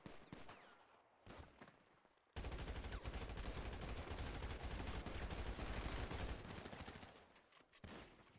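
Gunfire in the video game GTA: a few scattered shots, then a sustained burst of rapid automatic fire lasting several seconds, loud and dense, trailing off into a couple of final shots.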